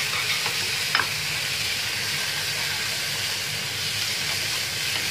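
Cleaned dried prawns sautéing in a hot pan, a steady, close hiss of sizzling that runs unbroken with a faint spoon tap near the start.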